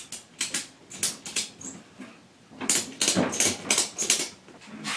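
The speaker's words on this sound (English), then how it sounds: "if you have a ratcheting tie-down strap, which has apparently become my favorite tool, all you gotta do is tighten up this" A ratcheting tie-down strap is cranked tight around a tractor tire to reseal its bead, giving close, crisp bursts of rapid ratchet clicks separated by short pauses.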